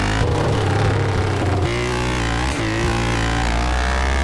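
A Twister 300F motorcycle engine in GTA San Andreas revs hard and loud, its pitch climbing and settling in sustained surges, close and alone with no talk.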